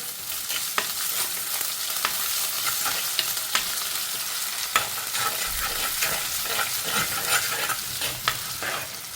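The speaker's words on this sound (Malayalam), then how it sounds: "സവാളൊക്കെ മുത്ത് വന്ന് നമുക്കിതിലേക്ക് കുറച്ച് ഇഞ്ചി വെളുത്തുള്ളി ചതച്ചിട്ട് കൊടുത്തിട്ടുണ്ട്" Sliced onions with crushed ginger and garlic sizzle loudly and steadily in a pan for a mussel curry, with occasional light stirring clicks over a dense, continuous frying hiss.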